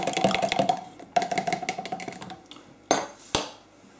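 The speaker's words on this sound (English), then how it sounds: "then use a fork just to give it a quick stir" A fork clinks and scrapes quickly around a bowl, stirring a mixture of hot water into a low-protein vegetable sausage mix, with light rapid taps followed by a couple of sharper knocks near the end.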